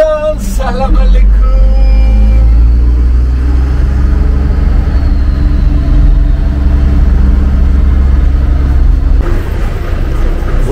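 Street traffic in Uzbekistan, mostly white Chevrolet cars, a continuous loud engine rumble of passing and idling vehicles, with a brief horn-like tone at the start.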